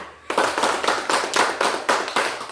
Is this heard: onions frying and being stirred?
no